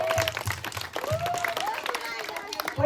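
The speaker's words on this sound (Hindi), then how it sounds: "तो इनके लिए एक बढ़िया सी ताली बजाओ" Children at a summer camp clap for the winning team in scattered, uneven bursts. Excited voices call out over the applause.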